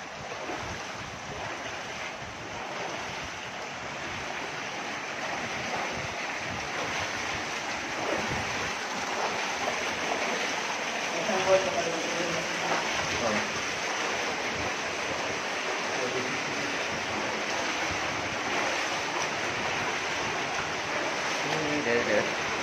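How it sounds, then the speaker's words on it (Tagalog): Powerful rushing water near a mine tunnel in Baguio, Philippines, roars steadily and loudly, a dense continuous wash that fills the whole stretch without pause. "Ang lakas ng tubig ngayon."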